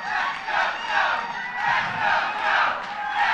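A large crowd at a Joe Biden campaign rally in Orangeburg, South Carolina, cheers and shouts continuously, the roar swelling in loud waves.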